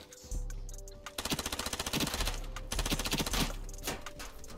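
Rapid bursts of PP90M1 submachine gun fire in the shooter game Ironsight, several sustained volleys of fast, evenly spaced shots, loud and close, with brief pauses between strings and no talking.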